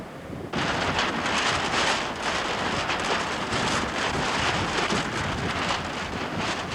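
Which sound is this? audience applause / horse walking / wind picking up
wind picking up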